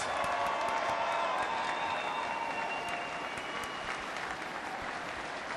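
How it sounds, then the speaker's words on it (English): An arena crowd at an NBA D-League basketball game between the Canton Charge and the Sioux Falls Skyforce applauds an award presentation, a broad, sustained wash of clapping with a few faint cheers blended in. "Fans, one more round of applause for Adam Simon, Dan Craig, DeAndre Liggins,"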